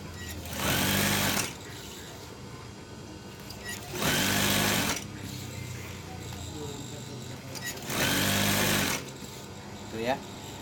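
A sewing machine stitches a curtain hem slowly, running in three distinct bursts of about a second each separated by pauses, close and clear.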